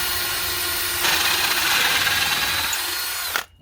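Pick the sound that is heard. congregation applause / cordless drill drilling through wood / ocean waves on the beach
cordless drill drilling through wood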